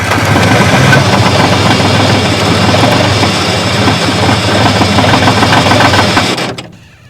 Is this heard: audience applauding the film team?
no